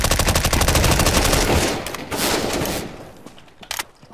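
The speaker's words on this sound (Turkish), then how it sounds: "Adam kendi adamını vurdu." Rapid automatic gunfire in CS:GO, a dense burst of loud shots for about a second and a half, then scattered further rounds and single cracks trailing off, as a player guns down his own teammate.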